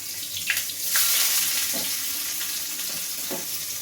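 Chopped onion frying with black cumin in oil left from frying small fish, a close continuous sizzle with a few soft stirring knocks and clinks.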